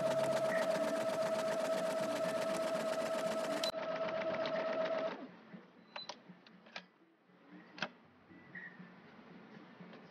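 Sewing machine stitching pieces of a jacket for a Blythe doll, a steady whirring run that stops about halfway through, followed by quieter clicks and small handling taps.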